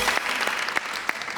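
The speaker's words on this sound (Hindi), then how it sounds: "तालियां भाई अहमद के लिए दोबारा." A talk show studio audience claps for a guest, brief dense applause with a few sharper claps standing out, fairly even in level throughout.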